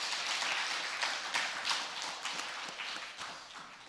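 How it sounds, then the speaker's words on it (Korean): Church congregation applauding the choir during a Sunday service, a loose, uneven crowd clapping with distinct individual claps standing out and a gradual fade toward the end. "우리 찬양대를 위해서 한 번 더 박수하여 주시기 바랍니다."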